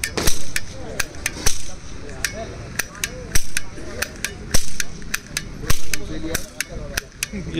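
A toy cap gun firing reel caps, a quick series of sharp close snaps at an uneven pace, with someone speaking Hindi between some of the shots.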